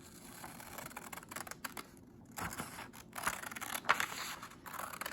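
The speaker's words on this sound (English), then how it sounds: "So just take your time and let's get all our pieces cut out." Scissors cut out paper pieces for a model of the earth, moon and sun, with close, uneven snipping and scraping of paper running throughout at a modest level.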